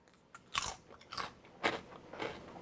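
Someone bites into and chews a baked protein-powder potato chip, producing four crisp, loud crunches spaced roughly half a second apart, close and alone.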